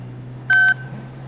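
A telephone number is dialed on a keypad, giving two short, clear touch-tone beeps in quick succession over a low steady hum.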